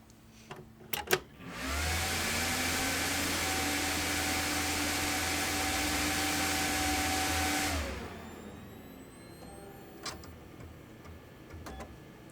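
An HP Pavilion Slimline s7410n desktop computer powers up with a steady whirring fan hum and faint tonal whine that holds for several seconds, then winds down, leaving quiet room noise and a few soft clicks.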